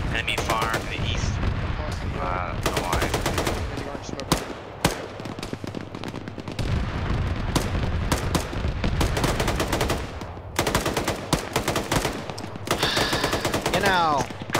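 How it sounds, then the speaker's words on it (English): Gunfire rattles through a military video game, with bursts of automatic fire and single shots cracking across a battlefield, mixed with radio-style callouts and chatter. "Enemy fire to the east."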